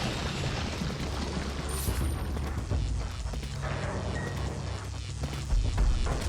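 A grenade blast in the horror video game Resident Evil 4, a low rumbling boom rolling through a dense, noisy game soundscape, moderately loud, followed by a heavier thud near the end.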